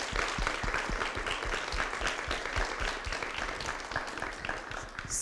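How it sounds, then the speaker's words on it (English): Audience applause at a pitch contest event, a dense, steady wash of many hands clapping that holds at an even level throughout, with no voices above it. "So let's give them a round of applause."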